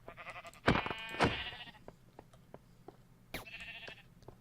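Two close, loud sheep bleats from a video game, with faint clicks and short effects after them and a brighter electronic tone near the end.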